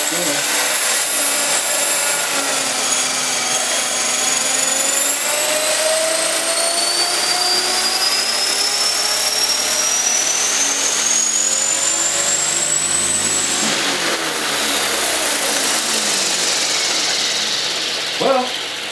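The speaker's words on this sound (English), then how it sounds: "seems like it wants to lift off, but it seems to me like it's taking too much motor power to get it off the ground" An electric Hobbyking HK450 RC helicopter, a T-Rex 450 clone, spools up its rotor close by, the motor whine rising steadily in pitch, levelling off loud and sustained, then dropping away near the end.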